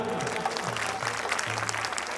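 An audience at a Khatu Shyam devotional night in Kaul village, Kaithal, claps together in a brisk, continuous burst of applause, with sustained sung or musical tones underneath.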